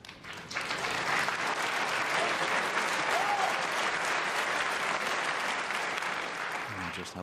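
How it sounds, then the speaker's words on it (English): A large crowd at the 1994 World Snooker Championship final gives a loud, sustained round of applause that swells quickly and holds steady for several seconds before tapering off. "I just have a feeling the crowd are going to clap every shot."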